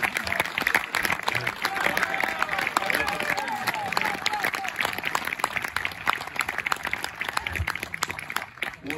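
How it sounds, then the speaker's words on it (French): A large crowd claps steadily for several seconds, a dense continuous patter of applause with some voices mixed in, at a French-speaking event. "Je vous prie de faire un tonnerre d'applaudissements à Maître Devol."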